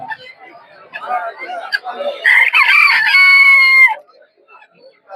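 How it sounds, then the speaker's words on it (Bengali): Polish cap chickens at a rural poultry market in Narsingdi give busy clucks and chatter, then one bird lets out a long, loud, strained crow lasting over a second before the noise drops away. "এইগুলো কি মুরগি"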